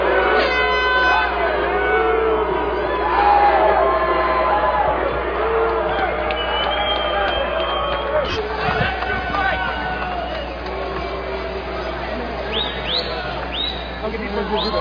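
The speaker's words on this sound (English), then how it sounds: "and listen to the crowd." An arena crowd roars and cheers as an MMA fight ends after three rounds, with horns blaring and a ringing buzz of noise that swells and stays loud.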